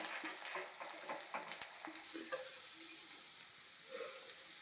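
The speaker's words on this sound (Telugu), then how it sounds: "ఇదిగోండి ఎల్లుల్లిపాయలు వేగిపోయాయి" Garlic frying in hot oil with sesame seeds, for a fenugreek-leaf dal: a steady, soft sizzle and crackle throughout, with faint spoon stirring, fairly quiet and uninterrupted by talk.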